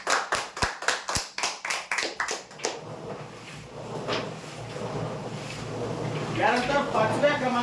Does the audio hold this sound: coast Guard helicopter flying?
no